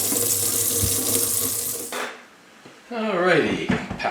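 Tap water runs strongly into a kitchen sink over peeled potatoes, then shuts off, followed by a brief clatter and a voice speaking close by.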